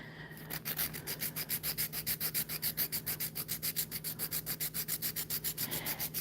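Thick acrylic nail tip being filed by hand, a rapid, regular back-and-forth rasping that repeats about eight times per second, close and fairly quiet, with no voices.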